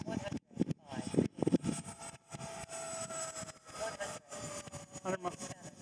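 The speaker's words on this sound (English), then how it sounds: "so let's do a full throttle here and see if we can hit 100." A Freewing Avanti S 80mm electric ducted fan RC jet on a 6S battery whines at full throttle, a sustained high-pitched rushing tone that sweeps in pitch as it passes, under frequent talk.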